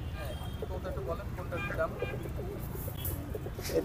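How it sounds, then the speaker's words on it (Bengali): Giribaz pigeons coo softly at a busy pigeon market in Khulna, their low calls partly buried under steady crowd noise and nearby talking. "এই জায়গায় সব গিরিবাস কবুতর"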